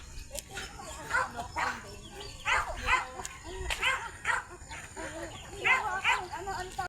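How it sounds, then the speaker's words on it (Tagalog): Several dogs bark repeatedly from moderate distance outdoors on a rural walk toward farmland, with yips mixed in and people talking over the barking. "Yan, maraming aso."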